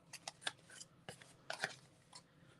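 Scissors snip paper strips for card making in a handful of quick, close, faint cuts spaced irregularly over a quiet background.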